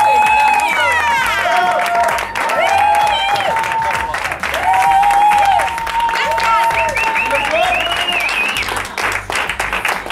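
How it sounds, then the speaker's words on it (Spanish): A live audience claps and cheers for the Varieté Brutal cast, loud sustained applause filling the room while bright whistles and shouts rise over it, a steady wall of crowd noise. "Yo les pido que ustedes mismos se aplaudan porque me parece brutal."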